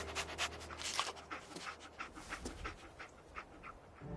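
Dog panting in the Fallout 4 wasteland on PS4, a steady run of quick, breathy huffs that carries on for several seconds at moderate loudness over faint game ambience.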